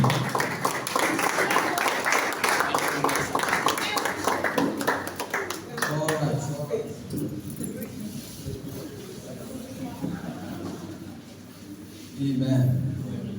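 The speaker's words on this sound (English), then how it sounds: "Please, with a round of applause, a clapping ovation" An audience at a live event in Port Harcourt claps and applauds, a dense rattle of many hands that is strongest at first and then thins, with voices mixed in as it fades.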